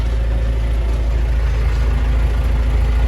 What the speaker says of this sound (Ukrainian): зараз проїдемося трошки в тракторі